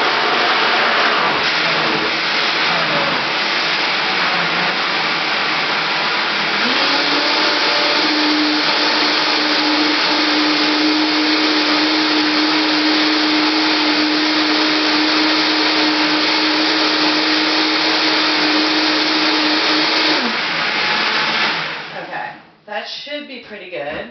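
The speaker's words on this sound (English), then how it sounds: "let me just fire up the Vitamix here" A Vitamix blender runs loud and steady for about twenty seconds as it blends almond milk, its motor settling into a sustained whine before winding down at the end.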